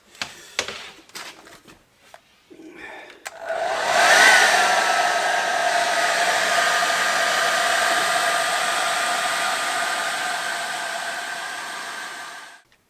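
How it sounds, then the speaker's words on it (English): A hair dryer blows air over a freshly coated BMW seat bolster during a leather repair. After a few clicks and handling noises, it starts up and holds a loud, steady whoosh for about nine seconds before cutting off. "Right, hair dryer. Just going to put a bit of airflow over this."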